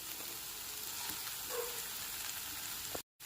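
Ground spices sizzle in hot oil in a pan while cauliflower kalia is prepared, giving a steady close hiss and crackle that cuts out briefly near the end.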